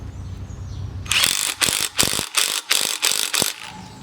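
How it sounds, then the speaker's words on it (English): A ratchet with a 13mm socket tightens the handlebar bolt on a Dynacraft Twilight Twist 16-inch kids' bike, giving a close, loud run of about seven rapid clicking bursts separated by brief pauses. "Put your 13mm socket up there"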